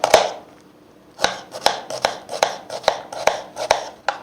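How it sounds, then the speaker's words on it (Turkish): A knife chopping onions on a cutting board, about a dozen sharp thuds in a steady rhythm after a short pause, close by. "Önce soğanlarımı doğruyorum."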